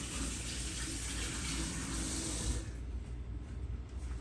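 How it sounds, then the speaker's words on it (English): Tap water runs steadily from a kitchen faucet as hands are washed beneath it, a broad close splashing rush that thins out and quietens near the end. "Wash my hands again."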